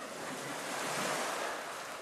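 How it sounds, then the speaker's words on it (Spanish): Ocean waves and surf wash in a continuous broad hiss, swelling slightly in the middle, with no voices over it. "hacemos a ver si escuchamos el mar"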